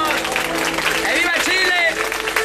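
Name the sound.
audience applause for the accordionist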